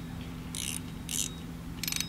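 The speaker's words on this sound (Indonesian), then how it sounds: "Oke, kita coba dengar bunyi dragnya" A spinning fishing reel, an inexpensive model with two line-roller bearings, gives three short bursts of rapid drag clicking, fairly faint and close, over a low background hum.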